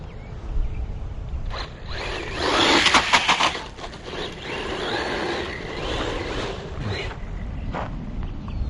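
A Bezgar HP161S 3S brushless RC car runs at half throttle, making a loud, steady high-pitched motor whine with bursts of surging buzz and crunching over the ground, close to the listener.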